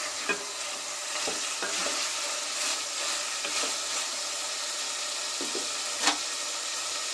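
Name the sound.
chicken pieces frying in oil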